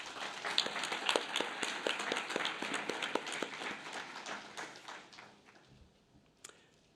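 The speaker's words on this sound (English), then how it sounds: "Could we please give them a round of applause?" Audience applause for staff at a summer graduation ceremony, sustained dense clapping that fades out toward the end.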